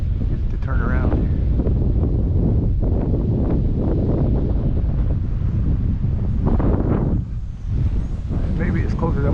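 Strong headwind buffeting the microphone during an XK P-51 Mustang RC plane flight, a loud continuous rumbling wind roar with gusty swells throughout.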